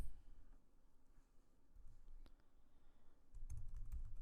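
Code is typed on a computer keyboard with soft, sparse keystrokes against a quiet room hush, then a denser flurry of clicks near the end. Nobody speaks.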